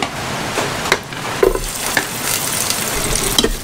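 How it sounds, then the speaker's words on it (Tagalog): Onion and garlic sautéing in a pan for sinigang at an outdoor camp, with a steady close sizzle, occasional stirring scrapes and small pops throughout. "Gigisa muna tayo ng sibuyas bawang."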